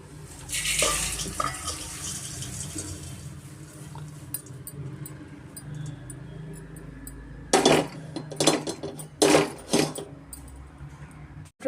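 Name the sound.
roasted poha flakes being transferred into a wide plate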